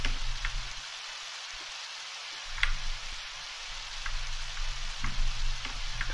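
Steady hiss of rain falling in the Undertale waterfall area, constant and even throughout, with faint occasional ticks over the wash.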